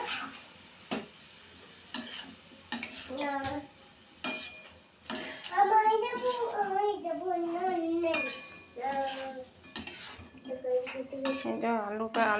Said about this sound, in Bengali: এবার এই শাকটাতে নাইড়ে ছেড়ে আলুর সাথে মিশিয়ে দেবো একসাথে।